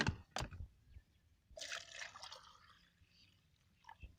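Water splashes and trickles briefly, then a longer pour gurgles into a container, fading to quiet with a small drip at the end.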